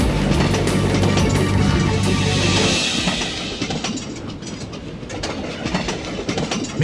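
A train rumbles along through mountains in the Sega Dreamcast lightgun game Confidential Mission, a loud continuous clatter and hum that eases partway through into a lighter, rougher rolling noise.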